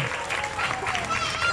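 An audience at a children's stage show breaks into steady clapping that fills the short stretch, with a performer's voice talking loudly over the applause.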